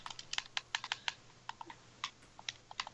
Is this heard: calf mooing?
no